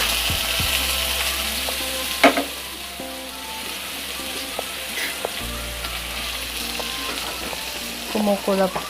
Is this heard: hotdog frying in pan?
yes